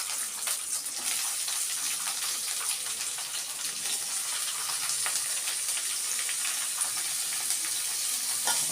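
Ridge gourd peels fry in oil in a pan, giving an even, continuous crackling sizzle that stays steady and close with no talk.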